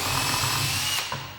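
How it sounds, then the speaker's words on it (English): A power drill bores a pilot hole into the top piece of a wooden planter. It makes a close, steady whirring grind that runs for about a second, then slows and stops. "I'm taking my drill bit and I'm just going to pop a pilot hole"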